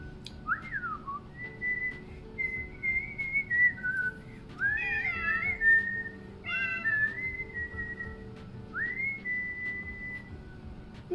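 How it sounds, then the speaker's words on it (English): A person whistling rising and falling melodic phrases indoors, fairly close, several short runs with brief pauses, a pet cat nearby reacting faintly underneath. "if I whistle, she will start going crazy about it"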